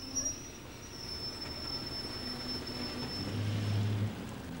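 The Royal Scotsman train rumbles steadily along the rails, with a faint high squeal running over the low, continuous rolling noise.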